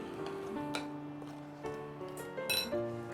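Eggs and powdered sugar being whisked together in a bowl for a steamed coconut pudding, the whisk producing scattered light clinks and metallic pings against the bowl, fairly quiet and irregular.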